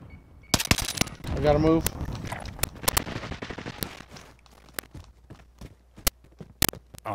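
Video game gunfire from a squad firing to suppress: sharp, loud shots in scattered bursts and singles, with a rapid burst early on, and a voice speaking briefly over them.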